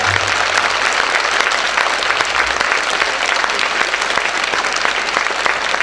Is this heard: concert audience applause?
yes